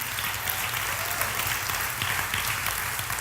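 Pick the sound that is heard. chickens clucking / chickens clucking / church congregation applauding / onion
church congregation applauding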